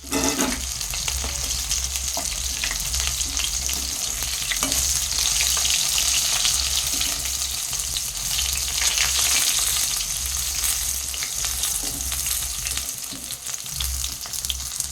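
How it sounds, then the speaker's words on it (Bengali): Chicken pakoras deep-frying in hot oil for chilli chicken give a loud, steady, continuous sizzle with occasional stirring, heard close up and alone. "দেখো সুন্দর করে পকোড়াগুলো আমি ভেজে নিচ্ছি"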